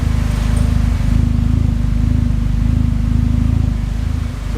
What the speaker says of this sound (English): you can kind of hear my exhaust.